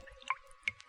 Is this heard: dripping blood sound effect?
yes